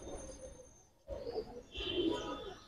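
High flyer pigeons cooing softly in a loft, a few low murmured coos and faint chirps spread across a quiet moment with soft background rustle.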